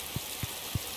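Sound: rain in a cave in the video game Stardew Valley

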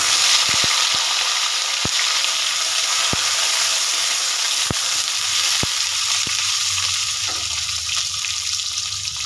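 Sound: cut eggplant frying in hot oil

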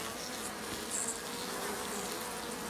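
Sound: bees buzzing

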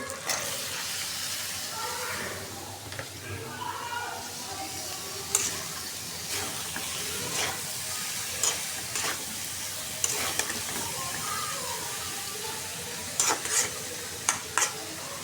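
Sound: spice paste frying and being stirred in a pan

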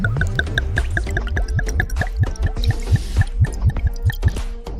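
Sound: oil being poured into a pan on the stove

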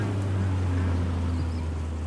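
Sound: long-tail boat passing on Prawet Burirom canal

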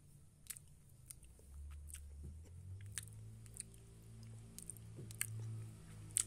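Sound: chewing crunchy Richwell Choco Malt biscuit

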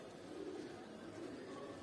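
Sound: racing pigeons cooing

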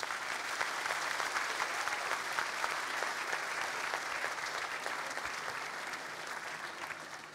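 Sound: audience applause during a speech

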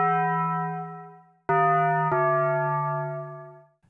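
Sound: Taco Bell jingle bell sample

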